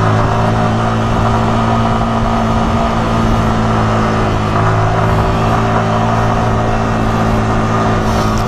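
A Yamaha R15 motorcycle engine climbs uphill toward the Mossy Forest in Cameron Highlands, a loud, steady, droning mid-pitched hum held throughout with slight shifts in pitch.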